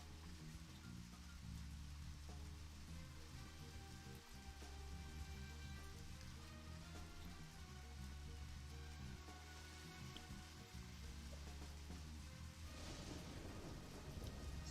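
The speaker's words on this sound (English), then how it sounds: "It's still raining though." Steady rainfall with a low rumble of thunder in the video game Deadly Premonition, continuous and fairly faint, with no voices.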